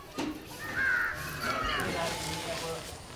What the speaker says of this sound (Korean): 높은 곳에 올라 까마귀를 부릅니다